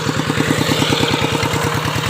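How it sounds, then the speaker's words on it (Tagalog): A farm machine engine runs steadily in a field, its loud, close, evenly pulsing chug continuing without break. "Talagang swabing-swabe ang ating ginagamit na makina."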